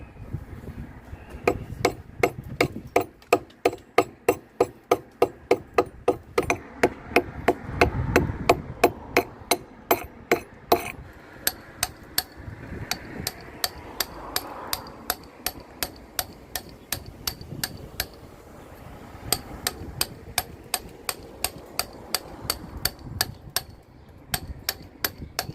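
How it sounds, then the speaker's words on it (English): A hammer strikes hand-forged, fire-sharpened Italian masonry chisels to recut a sandstone lintel, a long steady run of sharp, close, ringing taps, evenly spaced and continuing with only brief pauses. "I do have a lovely set of hand-forged, fire-sharpened Italian masonry chisels"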